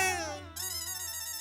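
An electronic telephone ringtone plays as a steady tonal melody with bright harmonics, shifting pitch partway through before the call is cut off, heard alone at moderate volume.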